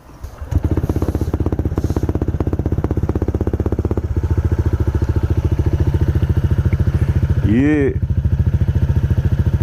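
Honda Click 160 motorcycle with a JAD Racing power pipe exhaust, idling close and loud in a steady rapid putter, with a brief throttle blip rising and falling near the end and a short spoken word.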